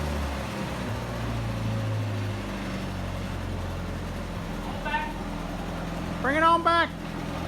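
A 1946 Willys Jeep CJ-2A just woken up, its engine running smoky with a steady low idle rumble throughout, while a person speaks over it.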